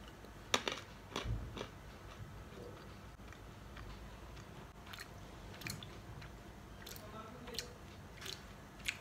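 A person crunches large Royal Canin Maine Coon cat kibble, several distinct crisp bites followed by quiet chewing, close and fairly faint with soft mouth noises in between.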